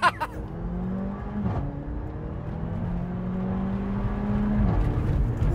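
A Mercedes CLA 45 AMG accelerating hard in sport mode, its engine note rising in pitch, then dropping sharply at each gear shift with a brief crack, heard from inside the car, with a close sharp sound at the start.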